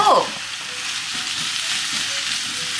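Mutton hits hot mustard seed oil at a strong medium-high heat for curry: a loud burst at first contact, then a dense, steady hiss and crackle of frying that carries on close-up with no talking.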